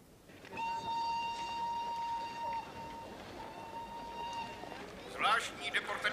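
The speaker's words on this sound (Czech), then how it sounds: "Zvláštní deportační vlak k polským hranicím odjíždí za 5 minut." A train whistle on a deportation train departing for the Polish border in the 1978 series Holocaust sounds one long steady blast lasting several seconds, then fades into louder rumbling, hissing station noise.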